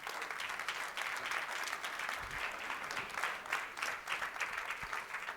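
Audience applause at a Spanish conference event, steady dense clapping filling the room at moderate volume for several seconds with no voices over it.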